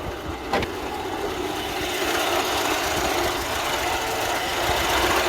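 Opel Rekord C from 1970 with a 1.9 engine running, a steady close idle with a rough, knocking rumble after a brief sharp click at the start.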